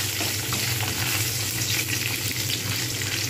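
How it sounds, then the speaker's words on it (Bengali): Small pieces of papad frying together in oil, a dense, continuous hiss and crackle of bubbling oil at an even level throughout, close by and fairly loud. "যেহেতু আমি অল্প পরিমাণে বানাচ্ছি, তাই একসঙ্গে সব ভেজে নিচ্ছি"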